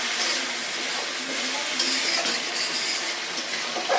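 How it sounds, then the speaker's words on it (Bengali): Potatoes are stirred into a spice masala sizzling in a pan for pangas fish curry, giving a continuous, close frying hiss with soft scraping strokes and no voices. "একটু সুন্দর করে নেড়ে চেড়ে নেব।"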